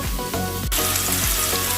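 Mushrooms frying in butter in a pan, a steady close sizzle with crackling pops and a brief stir partway through, no voices.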